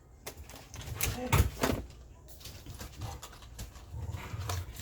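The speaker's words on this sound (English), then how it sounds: "my dogs have been up about an hour now, but they are playing" Dogs play indoors nearby, with scattered thumps, scuffling paws and brief snorts and growly noises coming in irregular bursts, moderately loud and close.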